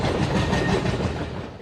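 A loud, steady rumble of a moving train with a rolling clatter, close by and continuous, no voices.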